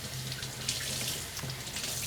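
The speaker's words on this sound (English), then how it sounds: "you're going to rinse it in the cold water and squeeze it out and keep rinsing it until your water runs perfectly clear" Cold tap water streams steadily into a sink while hand-dyed fabric is rinsed and squeezed, a close, continuous splashing rush with faint sloshing and no voices.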